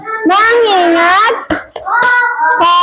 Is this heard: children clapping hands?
yes